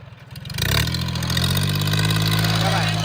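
A tractor stuck in mud: after a brief chugging start its engine roars up within the first second and then holds a loud, steady, close drone.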